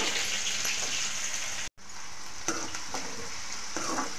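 Chopped onion frying in hot oil gives a steady close sizzle and crackle with scattered pops, briefly cut off by a short gap before the sizzling resumes.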